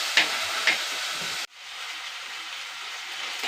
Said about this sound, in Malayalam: കുറച്ച് കറിവേപ്പില, നന്നായി വഴണ്ട് വരട്ടെ.